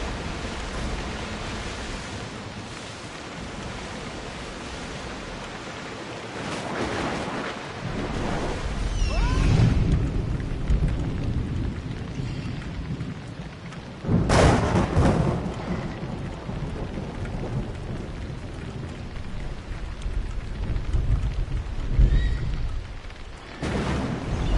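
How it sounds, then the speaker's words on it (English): A thunderstorm with rain in the video game Assassin's Creed Odyssey: a steady wash of heavy rain, punctuated by a few loud thunder cracks and rumbles at intervals. "That storm looks nasty."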